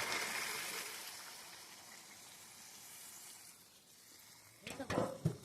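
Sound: hot water being poured into a pot of meat

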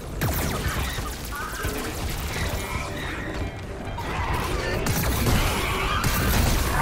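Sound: annihilator cannon firing in a video game

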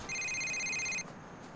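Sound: phone ringing for an incoming call, from the video game GTA 4

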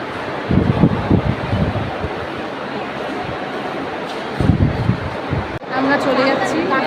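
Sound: wind blowing outdoors

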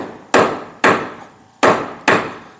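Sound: framing hammer striking a 2x4 against wood floor board

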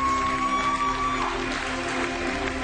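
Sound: audience applause for the Miss Hungary contestants

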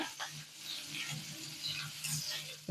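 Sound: frying potato with green chili and ginger

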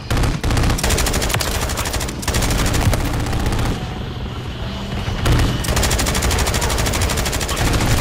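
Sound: turret machine gun fire in Call of Duty video game

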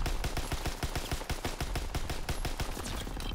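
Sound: LMG gunfire in video game Call of Duty: WW2

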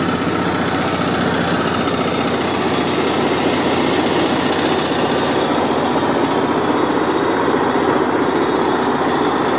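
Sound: RV engine running at idle

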